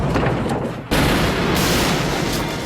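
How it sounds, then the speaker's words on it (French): Gas inside a box explodes during a MythBusters test, one sudden loud boom that cuts in sharply and leaves a broad roaring rumble trailing after it. "Je crois qu'il y a une explosion là."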